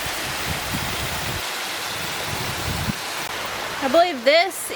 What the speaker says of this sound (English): I believe this is the drainage area that feeds the waterfall, and it is flowing very nicely